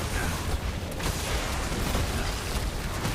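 Corpse explosion bursts in the video game Diablo Immortal, dense crackling booms and rumbling blasts layered over constant battle noise.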